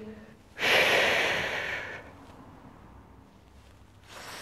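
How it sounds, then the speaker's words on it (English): A single long, forceful exhale through the mouth during a Pilates workout, loud and close, tapering off over about a second and a half before quiet breathing resumes. "keep on breathing"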